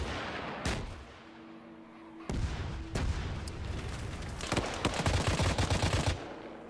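Arma 3 gunfire arrives as several sharp shots and short automatic bursts, moderately distant, with a denser rattle of fire building near the end.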